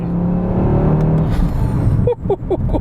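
A 2018 Audi RS3 accelerating hard, its engine droning loud and close from inside the cabin with a rising tone, then quick revving pulses as it shifts through the gears.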